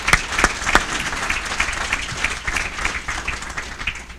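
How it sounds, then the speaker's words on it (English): An audience at a panel discussion applauds a panelist being introduced, a steady, dense clapping from a crowd that holds at an even level throughout. "So how about a warm round of applause to Mr."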